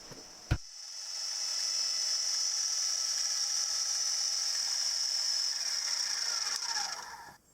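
A ratchet tightens a mounting bolt on the box bed of a Stuart Progress oscillating engine: one sharp knock, then a long steady run of fast, even ratchet clicking, close and moderately loud with no talk.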